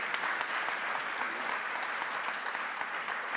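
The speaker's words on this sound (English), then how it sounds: "give a round of applause to everybody." An audience at a conference plenary session applauds with steady, dense clapping that holds at an even level throughout, with no voices over it.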